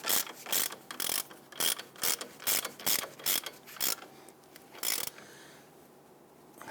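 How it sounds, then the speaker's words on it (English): A ratchet tightens a castle nut down onto a lower control arm ball joint stud on a 2000-2006 Toyota Tundra, giving about ten quick bursts of clicking in a steady rhythm, close up, then a quiet tail. "Install that castle nut, thread that down. Go ahead and tighten this down."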